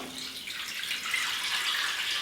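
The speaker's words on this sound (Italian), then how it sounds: "li versiamo nella pentola, ci aggiungiamo dell'acqua." Water runs from a tap into a pot of dried beans for bean dyeing, a steady hissing rush that grows slightly fuller as the pot fills, close and uninterrupted with no talking.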